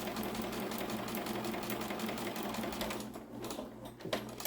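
A sewing machine stitching a quilt's postage stamp strip runs in a steady, fast mechanical chatter up close, slowing briefly near the end before picking up again.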